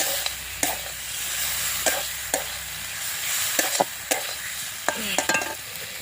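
Small mourala fish being stirred through fried onion and spice paste in a village-style pan, with a steady frying hiss and several sharp, intermittent scrapes of the spoon against the metal.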